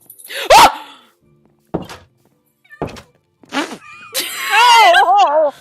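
A dog barks in a Minecraft-style video game, a few sharp in-game barks with thunking impacts between them, followed by a wailing, wavering tone near the end.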